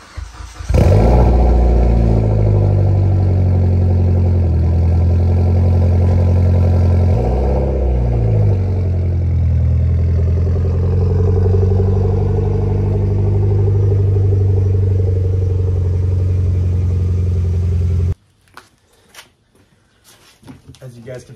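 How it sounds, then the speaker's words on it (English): Mitsubishi Evo X engine cold starting, with a sharp crank and catch, a loud rev flare, then a steady deep idle rumble at close range for many seconds before cutting off, followed by faint handling noises. "let's get a cold start for the boys."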